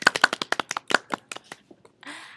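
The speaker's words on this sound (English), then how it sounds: "Let's give her a round of applause." A small audience applauding the host of an interview show, a brief burst of distinct, fairly close claps that thins out and stops, followed by a short rustle.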